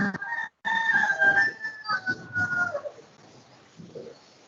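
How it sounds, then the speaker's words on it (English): A chicken in a classroom gives a drawn-out crowing call followed by softer clucks, fairly close, fading out toward the end. "There's chicken in class."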